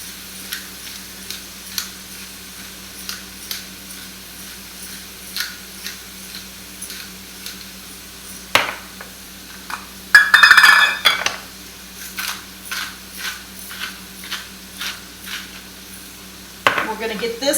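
Onions and garlic hit a hot pan for stuffed mushrooms, giving a soft sizzle broken by repeated scraping stirs and clinks of a utensil against the pan, with a louder clatter near the middle and again at the end.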